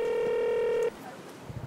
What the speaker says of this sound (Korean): 전화를 해보자, 저기 팀인데.